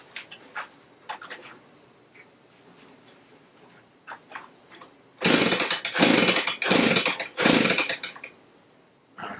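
Stihl BG85C leaf blower being pull-started, with a few faint clicks and handling noises, then several loud, raspy bursts of the cord being yanked, the two-stroke engine sputtering briefly with each pull.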